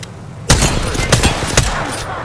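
Rapid automatic gunfire in the battle royale game Apex Legends, a dense close burst of loud overlapping shots starting abruptly and continuing to the end.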